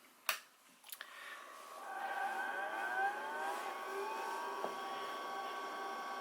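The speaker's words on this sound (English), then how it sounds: "you can hear all the glorious noises of the hard drive and everything else" An IBM PS/2 P70 (8573) powers up: two sharp clicks, then its hard drive spins up into a steady whine with rising tones and faint seeks, quiet and alone.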